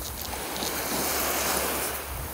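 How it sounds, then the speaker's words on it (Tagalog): Strong water current rushes in a steady broadband roar outdoors, with some wind buffeting the microphone and no voices. "Lumalakas na yung agos."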